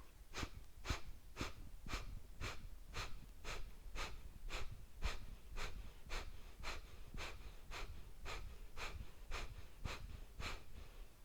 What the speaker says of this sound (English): Start those sharp exhales out.